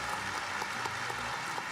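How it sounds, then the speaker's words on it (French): Steady audience applause at a church gathering, a dense continuous wash of clapping with no pause, heard alone without talk. "Donnons lui les grands applaudissements du fond du cœur."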